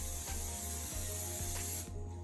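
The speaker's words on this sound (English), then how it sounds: "I spray my pan so the noodles doesn't stick" Cooking spray hisses steadily onto a pan for making macaroni and cheese, a continuous close bright spray that stops abruptly near the end, with faint taps underneath.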